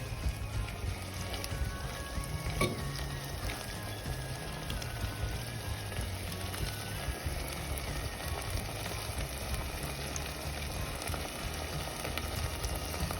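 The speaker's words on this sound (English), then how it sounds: "As you can hear, it's sizzling." Steady sizzling from a pot of sofrito chicken stew on high heat, a continuous soft crackle with faint stirring clinks, no talking.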